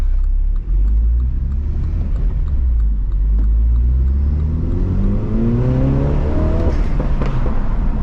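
A 2016 MINI John Cooper Works with a six-speed manual accelerating hard, the engine note climbing steadily in pitch from a low rumble to a loud rising whine over several seconds, heard from inside the cabin.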